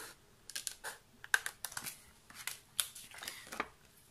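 Scissors snip through paper, cutting out a magic princess wand shape for a craft project, in a quick series of short, crisp cuts and rustles, close and fairly quiet.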